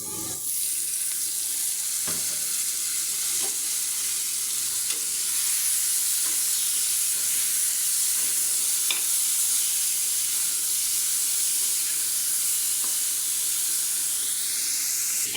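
Washed dried fish (shutki) frying in a pan with cumin and turmeric, giving a steady, close sizzling hiss throughout with occasional soft stirring scrapes and no talk.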